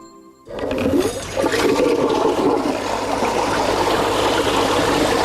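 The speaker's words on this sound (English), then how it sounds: "The modern flush lavatory, with water always in the bowl, a cistern and a terrific powerful flush" A modern flush toilet with a cistern releases a loud, powerful flush. It starts abruptly after a brief quiet moment and then becomes a steady rushing torrent of water close by.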